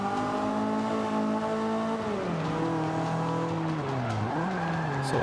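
Car engine in Forza Motorsport 5 racing game droning steadily with harmonic pitch sweeps as the car slides, tires scrubbing and squealing through the skid, continuous and close.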